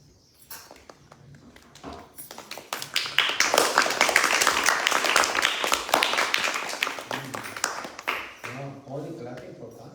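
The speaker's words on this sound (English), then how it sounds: "Only clapping for Kanu." Children and adults at a morning kids' class on Hawaii's Big Island clap together: scattered claps swell into dense, steady applause, then thin out and fade as people start talking.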